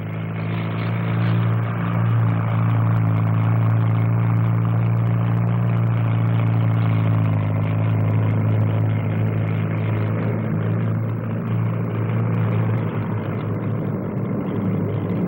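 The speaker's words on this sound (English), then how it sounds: "and the new Wessex, which has a Napier Gazelle 3-turbine engine." Westland Wessex helicopter powered by a Napier Gazelle turbine engine, flying at the 1957 SBAC Farnborough display: a loud, steady turbine whine and rotor drone held continuously with no talk.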